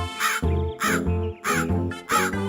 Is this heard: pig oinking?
no